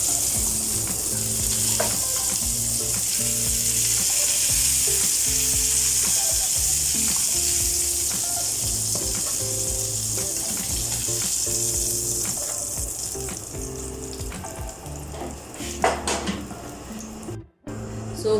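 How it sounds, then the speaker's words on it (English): Chicken pieces fry in really hot oil, giving a steady, close sizzle and crackle with soft stirring and clattering that runs throughout and eases slightly near the end. "I'm going to add the chicken on really hot oil."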